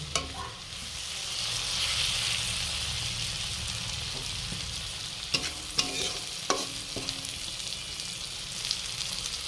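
Chopped green chillies and tomatoes frying in a pan for paneer bhurji, a steady broad sizzle throughout with several sharp clinks of a spatula against the pan in the second half; no speech.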